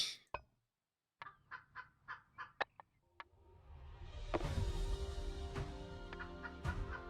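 Chickens and roosters in the video game Primitive Society Simulator, with a run of short repeated clucking calls followed by a denser, louder flock chatter with sharp squawks near the end.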